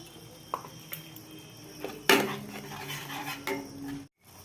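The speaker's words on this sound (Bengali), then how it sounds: "এবার এটা দিয়ে একটু ভালো করে নাড়াচাড়া করে নেব" A utensil scrapes and clanks against a pan while river catfish (aar) is stirred, with a few sharp metallic knocks and a louder clatter midway, close and alone.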